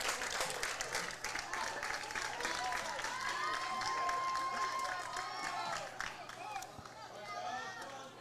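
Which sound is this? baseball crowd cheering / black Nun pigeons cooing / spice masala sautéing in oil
baseball crowd cheering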